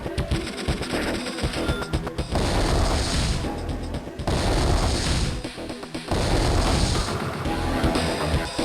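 Repeated cannon fire from the Black Hole army in the strategy game Advance Wars 2, heavy booming blasts in loud bursts over a backing music track, with no talking.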